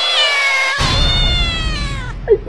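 Loud, drawn-out cat meow with a wavering, yowling pitch, close up, followed by a short rustle and a brief squeak at the end.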